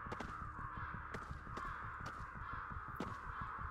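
Crows caw repeatedly in the video game Ghostwire Tokyo, sharp calls recurring every half second or so over a steady game ambience, fairly close and clear with no talk.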